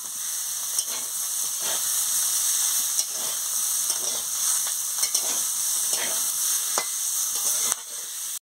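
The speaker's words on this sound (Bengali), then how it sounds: "কিমা দিয়ে ভালো করে আলু বেগুনের সঙ্গে ভেজে নিচ্ছি" Minced meat sizzles and fries with potato and eggplant in a pan, a loud, close, continuous crackling hiss broken by the periodic scrape and clack of stirring.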